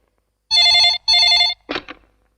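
Two long electronic telephone rings, close and loud, each about half a second, followed by a brief clatter as if the receiver is picked up.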